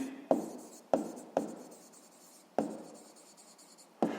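A pen scratches out numbers in short strokes on paper during a sixth-grade maths exercise, with several close, soft scribbles separated by brief pauses in a quiet room.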